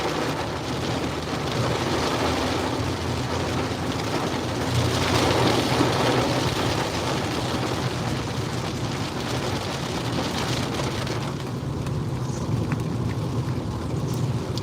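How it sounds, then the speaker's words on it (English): Steady heavy rain pours during an Oklahoma storm chase, a dense continuous hiss drumming on the vehicle with a slight swell midway and no talk. "going to get out of this rain here."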